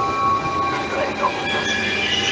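Train pulling in at the platform of San Donà di Piave - Jesolo station, a steady rumbling hum with faint wheel squeal running throughout, heard continuously with no talk.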